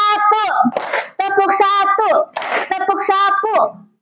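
Children chant in rhythm in a classroom, with bursts of hand clapping falling between the sung phrases, close and lively.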